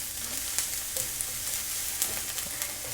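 Ginger, onions and garlic frying in a pan for Chinese takeout-style cooking: a bright, continuous sizzle with scattered crackles and pops and occasional scrapes of stirring, close and moderately loud, with no talking.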